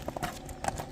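The hooves of Akzhal, a horse, clip-clop in a brief series of soft, fairly distant taps, quiet and alone.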